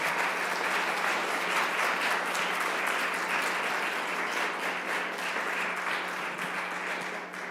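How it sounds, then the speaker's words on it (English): Sustained applause from the audience at a village council meeting, steady and fairly close, holding at an even level before easing slightly at the very end. "Let's give them one more round of applause."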